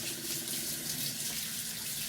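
Running tap water rinses a soapy apple peeler machine at a sink, a steady close splashing gush that stays even and continuous, with no talking.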